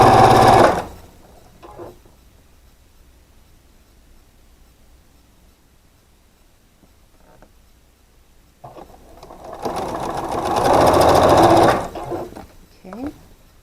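A sewing machine stitches quilt block pieces in two bursts, a short one at the start and a longer whirring run near the end, separated by a quiet stretch of faint handling sounds.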